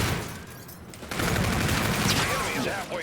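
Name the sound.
sniper rifle gunfire in the video game Infinite Warfare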